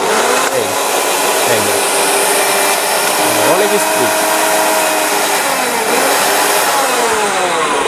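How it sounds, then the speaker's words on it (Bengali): A 1200-watt kitchen blender runs continuously with a loud, steady motor whine and whir, its pitch wavering a few times as the load shifts, and a faint voice occasionally underneath. "এখন লক করে দিলাম, এখন কিন্তু মেশিনটা স্টার্ট হয়ে যাবে"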